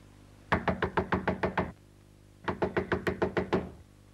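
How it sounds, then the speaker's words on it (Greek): Forceful pounding on a door by someone trying to break it down, two loud bursts of about eight rapid heavy knocks each, separated by a short pause. "Προσπαθεί να σπάσει την πόρτα για να σώσει την αγαπημένη του."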